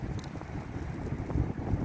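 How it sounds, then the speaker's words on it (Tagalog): Strong wind at the seaside in Bahrain buffets the microphone with constant low rumbling gusts, loud and unbroken throughout. "ang lakas ng hangin"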